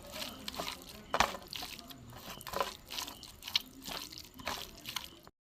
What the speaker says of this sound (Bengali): একসাথে সব আমি মেখে নেব, একসাথে মিশিয়ে নিচ্ছি মশলাগুলো